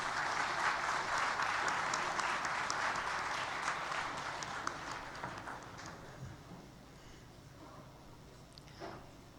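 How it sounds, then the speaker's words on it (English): An audience at the Himalayan Travel Mart 2019 inauguration ceremony applauds, with dense clapping that gradually thins and fades over about nine seconds. "Let's give a huge round of applause, ladies and gentlemen."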